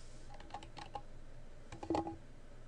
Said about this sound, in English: To change your password, type in your username,